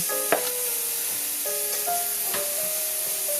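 Celery and green onion whites fry in a pan for fried rice, a steady sizzle with scraping stir strokes and a few clinks, close and moderately loud.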